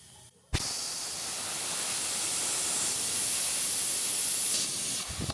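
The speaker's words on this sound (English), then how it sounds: "So I'm gonna pull it a little bit more to release a little bit more pressure." Compressed air rushes out of an air compressor's pressure-release valve in a laser-machine setup, a loud, steady hiss that starts abruptly, holds for about four seconds and then cuts off.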